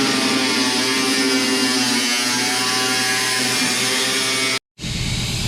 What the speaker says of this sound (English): I'm going to grab a grinder and just kind of trim this out